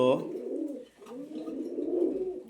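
Pigeons cooing close by in a loft, a steady low rolling coo that dips briefly near the start and then continues through to the end.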